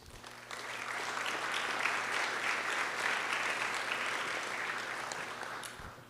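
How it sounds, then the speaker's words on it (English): Sustained audience applause at a high school district board meeting, honoring national merit semifinalists; a dense, even wash of clapping that rises quickly, holds steady, then tapers off near the end. "How about a huge round of applause for all of our national merit first generation semifinalists"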